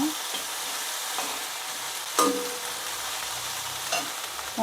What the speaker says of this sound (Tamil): லேசாக நம்ம வதக்கி விட்டால் போதும், ரொம்ப நேரம் வதக்க வேண்டாம்